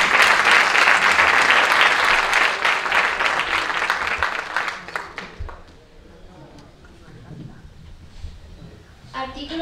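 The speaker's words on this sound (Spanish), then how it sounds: "Así que pido un aplauso para Clara." A crowd applauds loudly and steadily at a Constitution Day ceremony, honoring a young representative named Clara; the clapping fades after about five seconds into a quieter room.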